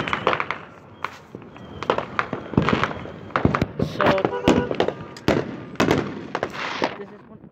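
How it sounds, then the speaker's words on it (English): Repeated sharp bangs and crackles of Fourth of July fireworks going off outdoors, irregular and fairly close, with a brief spoken word among them. "Oh, the fireworks might stop soon."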